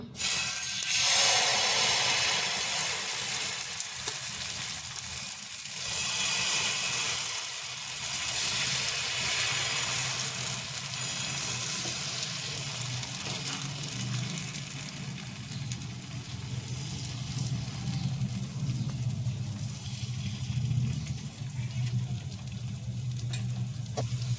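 Sweet jaggery pudla batter sizzles in ghee on a hot nonstick griddle, a loud continuous hiss that softens slightly as it cooks, heard alone and up close.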